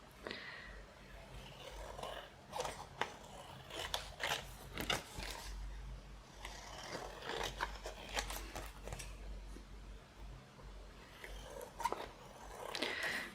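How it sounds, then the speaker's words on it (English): Scissors cut around a paper envelope for a junk journal booklet, a series of close, crisp snips and paper rustles in an uneven rhythm with short pauses, fairly quiet. "And now I'm going to cut around."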